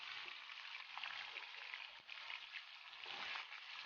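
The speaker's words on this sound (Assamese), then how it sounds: "সো এইখিনি মই ভাজি ল'ম এতিয়া তেলত ভালকৈ" Paneer cubes fry in hot mustard oil, giving a steady, dense sizzle that holds evenly throughout with no voices.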